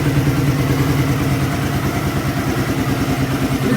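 A Suzuki Satria FU motorcycle engine idles steadily up close, with a loud, continuous mechanical rumble and a fast, even pulse throughout.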